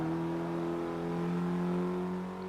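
A racing car engine in the video game Forza Motorsport 6, a hot hatch driven near top speed, drones steadily and loudly with a sustained high whine throughout, without any talk.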